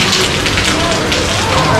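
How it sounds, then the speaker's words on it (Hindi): Heavy rain falls on a circuit house lawn in Prayagraj as a constant close hiss of drops, loud and even throughout. "ये हमारा सोहम भी बारिश मजे मजे ले रहा है।"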